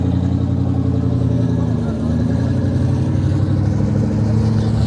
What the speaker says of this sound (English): The big Cummins diesel.